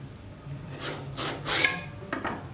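A 10-inch second-cut file drawn across a cabinet scraper, three or four separate rasping strokes, each a short scrape, close but fairly quiet.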